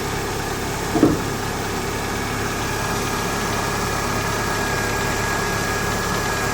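A car engine with about 160,000 on the clock idles steadily nearby, a constant even hum with one brief knock early on and no talking.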